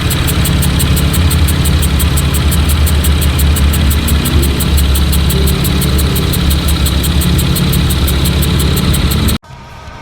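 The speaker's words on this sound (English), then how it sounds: "As you can hear, it's super weird. It's like a psst, psst, psst, psst" A car engine idles loudly and close, overlaid by a rapid, evenly spaced hissing pulse that repeats throughout before cutting off abruptly near the end.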